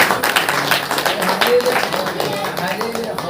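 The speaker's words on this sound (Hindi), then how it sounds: "ताली बजा करके" A congregation at a Saturday church meeting claps hands in a dense, continuous patter, close and lively, with voices speaking and calling out over the clapping.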